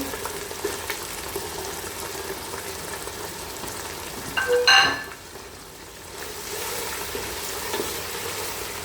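Cumin paste and chopped tomato frying in hot oil for chicken bhuna khichuri: a steady close sizzle with a brief clatter of stirring midway, no talk.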